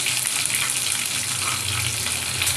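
Crushed garlic and curry leaves sizzle and crackle steadily in hot oil while a Telugu okra tamarind curry is made, a dense, even frying hiss lasting throughout at close range with no talking.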